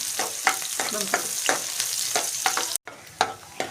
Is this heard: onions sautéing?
yes